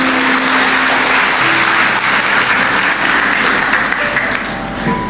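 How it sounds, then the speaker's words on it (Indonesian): A church congregation applauds during a sermon, steady dense clapping from a large crowd that holds level for the whole stretch without a break. "Kasih tepuk tangan untuk orang sebelahnya."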